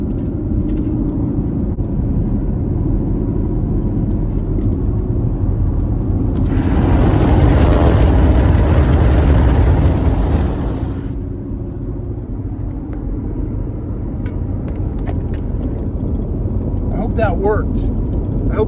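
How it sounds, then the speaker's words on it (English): A small propeller plane flying loops overhead rises to a broad, loud roaring swell for a few seconds over steady outdoor traffic-like rumble, then fades back. "There's a plane doing loop-de-loops right now."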